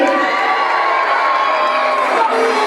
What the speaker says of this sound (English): Make some noise for Ian.